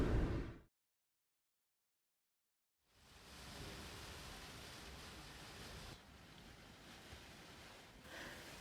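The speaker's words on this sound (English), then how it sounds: "This morning, rain greets us." Steady rain patters on the roof and surroundings of a camper van parked beside a field near a cliff edge in France, a broad hiss that cuts in after a brief silence and continues evenly to the end.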